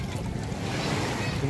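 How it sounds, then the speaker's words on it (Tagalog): Ocean waves at sea around a small fishing boat, a steady loud wash of surf and water noise mixed with wind buffeting the microphone. "Lumakas ang alon ah."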